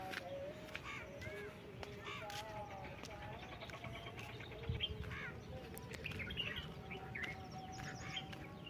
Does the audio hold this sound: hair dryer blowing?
no